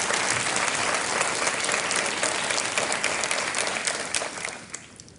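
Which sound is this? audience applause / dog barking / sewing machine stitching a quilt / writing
audience applause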